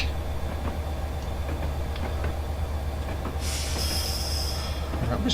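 A Class 67 locomotive in a train simulator rolls along on the Fort William line, producing a low, steady rumble of wheels on rail. Partway through, a bright hissing squeal from the brakes joins the noise and continues.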